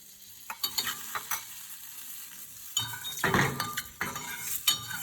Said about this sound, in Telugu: ఈ ఆయిల్లో వేయించుకోవాలి. మంచి కలర్ వచ్చే వరకు వేయించుకోవాలి ఫ్రెండ్స్.